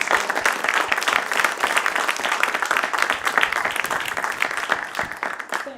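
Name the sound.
audience applause for presenter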